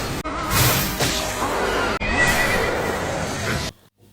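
A fire-breathing horse in an anime, struck by an arrow, gives a loud, harsh whinny lasting several seconds through a busy dramatic soundtrack, then cuts off abruptly as it collapses.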